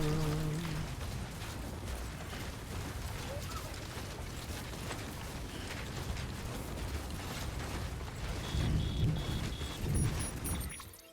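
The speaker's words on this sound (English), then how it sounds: "There is, of course, more rain." Rain falls in the video game Death Stranding, a steady broadband hiss lasting throughout with some mechanical creaks and clicks layered on top, close and fairly loud.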